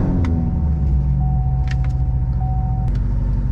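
A C7 Corvette fitted with a ported throttle body idles in a steady, deep rumble, close by and unbroken, with a faint whine running through it.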